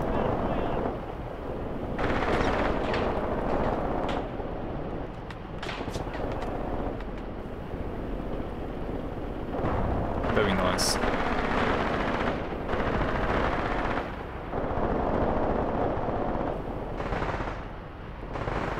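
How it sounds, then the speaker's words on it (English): Machine gun fire from Panzer II tanks and other units in the Graviteam war game: dense, continuous bursts and distant booming rumble that stay loud throughout. "Enemy is experiencing a lot of machine gun fire from my Panzer IIs and other assorted units."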